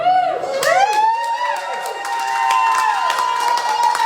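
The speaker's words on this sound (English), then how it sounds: "A crowd at the courthouse cheered Tuesday night as Jasper County Clerk Charlie Davis announced Kosey will be recalled" A crowd outside the Jasper County courthouse cheers on a Tuesday night after a recall is announced. Loud whoops and shouts rise and fall over scattered clapping, with voices mixed in.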